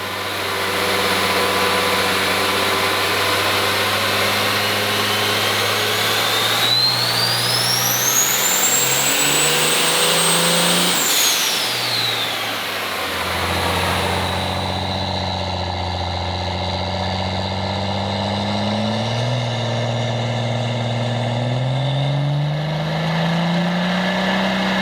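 A drag car's new Performance Series engine revs hard on a dyno, pitch climbing to a high whine before dropping off, then settles into a steady, rumbling run with smaller revs.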